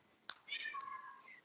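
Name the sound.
agitated cat meowing outside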